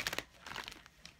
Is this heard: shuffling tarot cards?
yes